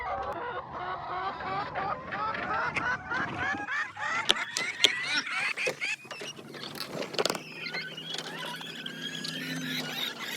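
Hens clucking and squawking close by, a busy overlapping chorus of chattering calls with a few sharper squeals, continuing throughout.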